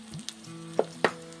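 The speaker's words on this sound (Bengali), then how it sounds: "আমি ডিমটা ফাটিয়ে নিচ্ছি।" Two sharp cracks of a home-laid chicken egg being broken, close and clear over a faint background hum, with a softer tap just before them.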